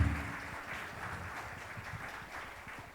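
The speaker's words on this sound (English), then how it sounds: "let's give a warm round of applause to our incredible panelists" An audience at a panel discussion gives the panelists a fairly quiet round of applause, a steady patter of many hands clapping that fades slightly toward the end.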